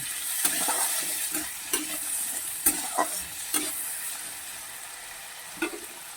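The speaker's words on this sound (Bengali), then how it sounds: "এটাকেও আমি এক মিনিটের মতন ভেজে নেব" Potatoes and peas sizzle and fry steadily in a pan, with repeated scraping stirs and clanks of a utensil at irregular intervals.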